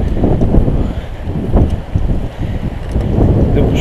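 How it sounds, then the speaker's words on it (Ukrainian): Strong wind buffets the microphone outdoors on a cloudy day while spinning for mountain trout, producing loud, gusty low rumbling with surges and dips across the whole stretch. "Погодка хмарна, досить непогана, але що є трохи сильний вітер."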